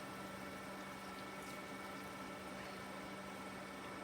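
Soak water floods a hot pan of lemon chickpea curry, giving a sustained, even pouring hiss with faint bubbling and one brief splashy flick partway through, with no voices.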